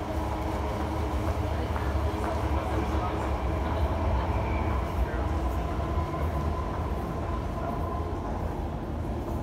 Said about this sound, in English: So here the train is approaching.